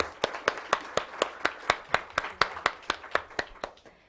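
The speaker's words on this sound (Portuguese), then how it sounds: "Peço uma salva de palmas para a nossa palestrante." Clapping after a lecture on conscious fashion: a quick, even run of sharp claps, about sixteen at a steady beat, fairly close, thinning and fading at the end.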